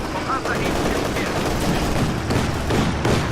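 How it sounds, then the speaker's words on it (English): An artillery barrage in the Company of Heroes 2 multiplayer battle pounds steadily, with dense rumbling blasts and rattling gunfire layered continuously throughout a busy combat soundscape. "Of course, I'm shooting my barrage over here."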